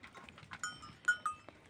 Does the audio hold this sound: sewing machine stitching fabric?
no